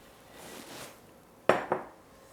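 A quick stir as dry brownie ingredients meet the wet batter, a faint scrape followed by two close clinks of a utensil against the bowl.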